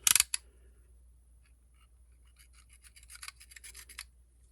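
A few sharp snips as crochet yarn is cut without scissors, followed by soft scraping and rubbing sounds that grow busier toward the end, close and fairly quiet.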